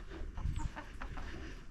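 A chicken in a henhouse squawks and clucks in a few quick, faint bursts over low background rumble.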